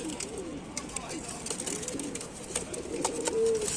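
Pigeons at a Tanta loft of flying pigeons kept for sale give soft, low, repeated coos that rise and fall near the microphone, with light rustling and background noise throughout.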